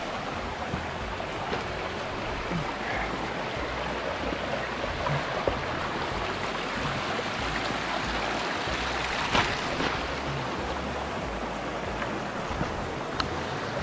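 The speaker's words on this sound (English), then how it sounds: "Our first major water crossing." Mountain stream at a hiking trail water crossing in the White Mountain National Forest, New Hampshire, a steady broadband rush of flowing water, continuous and moderately loud.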